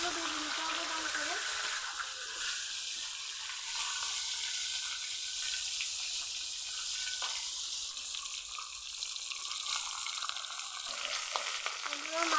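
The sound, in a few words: fish heads frying in hot oil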